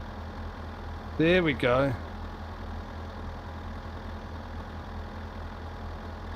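A car engine idles on hand throttle in the video game My Summer Car, a steady low drone running the whole time, with someone speaking briefly over it near the start.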